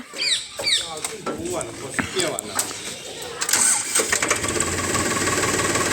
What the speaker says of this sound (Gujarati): સેલ મારો તો કેવો સેલ વાગે છે ઘૂઘરા બંધ તમને સેલ વગાડીને બતાવી દઈએ